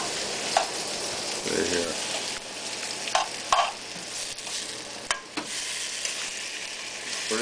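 Candied sweet potatoes with butter cook in a pan, giving a continuous soft sizzle broken by a few clinks and scrapes of stirring, close by, with a brief spoken remark over it.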